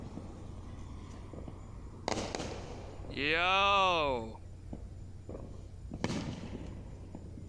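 Fourth of July fireworks bursting outdoors: two sharp booming explosions several seconds apart, with a rising whistling firework between them, amid excited voices nearby.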